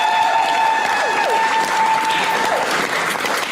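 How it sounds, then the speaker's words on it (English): An audience gives a brief burst of applause, dense clapping that stays loud and steady throughout, with a few whoops and cheers mixed in. "Can we get a huge round of applause?"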